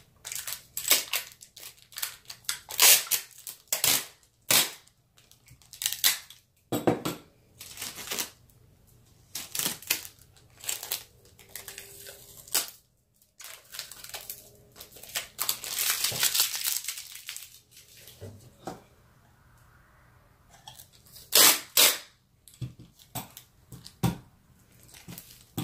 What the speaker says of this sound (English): Okay, loud strapping tape.